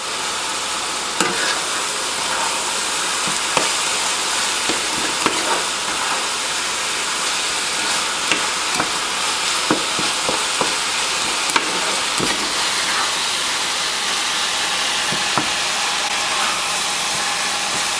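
Taco meat browning in a pan with basil, parsley, rosemary and chili powder, a steady close sizzle and hiss with occasional clicks of stirring, no talking.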